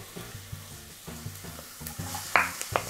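Garlic and onion sauté in a hot pan, a soft steady sizzle broken by repeated scraping stirs of a utensil against the pan, close and fairly quiet.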